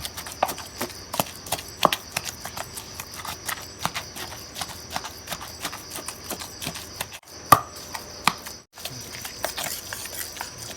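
A pestle pounds jaew bong, a Thai chili dip with fermented fish, in a mortar: steady, fairly quick knocks with a crisp, close, woody thud, repeating with brief pauses and no talk.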